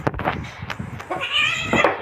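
House cats biting and scuffling with each other, giving out several close, loud meows and drawn-out yowls over a rough, scratchy background.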